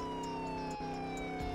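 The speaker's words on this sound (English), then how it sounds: "Yeah, I got sirens on my dirt bike." A steady electronic police siren on a dirt bike in Roblox Mad City wails at moderate volume, its tone gliding slowly downward, with no talking over it.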